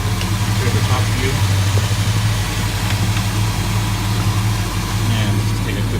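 A 1970 Dodge Charger idles steadily nearby with a continuous low, even rumble and vibration, while someone talks over the engine noise.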